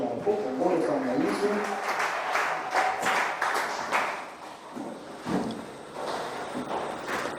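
A French-speaking church congregation applauds during a worship service, a dense, steady patter of clapping mixed with voices and cheers that carries through the whole stretch.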